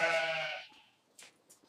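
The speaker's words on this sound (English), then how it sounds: "These goats look ready for transfer." A goat on a modern smart farm raising animals for leather gives one loud, close bleat that fades out, followed by faint scattered clicks and shuffles.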